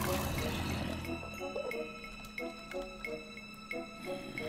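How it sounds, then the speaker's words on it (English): Water runs through a sewer in Minecraft, heard as a faint liquid wash with scattered drips and plinks, over soft steady game ambience and no talk. "The water's flowing in the reverse direction."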